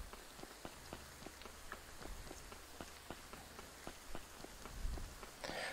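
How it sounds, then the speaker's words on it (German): Steady rain in the video game Graveyard Keeper patters on a surface with scattered, distinct drops tapping through a soft continuous hiss, fairly quiet throughout. "Jetzt regnet es auch schon."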